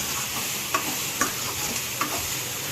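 Taro roots tossed with salt and chili powder sizzle steadily in a pan, broken by a few sharp scrapes of a spoon stirring them.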